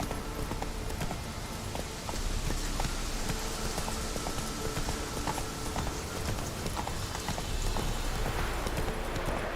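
Horse hooves clip-clopping steadily in the video game The Witcher 3: Wild Hunt, a continuous rhythmic trot over a dense ambient bed, close and consistent throughout.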